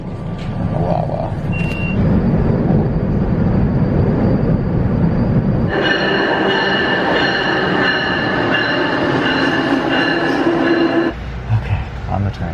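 Amtrak train ride to Philadelphia: a continuous low rumble of the moving train with a sustained high metallic wheel squeal partway through, heard from inside the car, with some talk.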